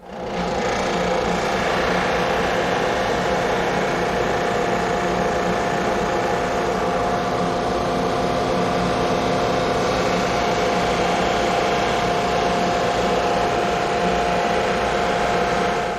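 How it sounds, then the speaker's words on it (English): A wide drum sander runs with a continuous, even mechanical hum and rumble while flattening a glued-up wooden panel, steady and loud throughout with no talking. "That wide drum sander sure does a nice job of flattening out the panel"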